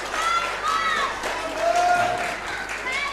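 Crowd at a UKPW wrestling match cheering for Mr Charles Crowley during his bout with Mike Bird, a steady, loud mass of shouts and applause with excited voices rising through it.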